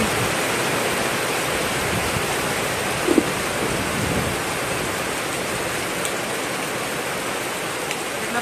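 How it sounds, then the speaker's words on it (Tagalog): Steady, dense rain hisses without pause, a loud broadband wash that fills the whole clip, with one brief knock partway through. "Super lakas sa ulan"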